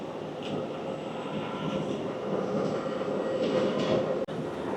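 Steady low rumble and hum of a Frecciarossa train idling at a station on the Naples to Florence route, with a faint whine and a brief sharp click near the end; no voices.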